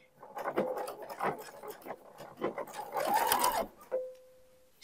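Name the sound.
sewing machine stitching decorative topstitching on shorts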